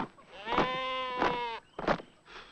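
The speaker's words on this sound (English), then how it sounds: "That's a sheep." A sheep bleats three times at close range, drawn-out wavering calls with short gaps between them, followed by a fainter fourth cry.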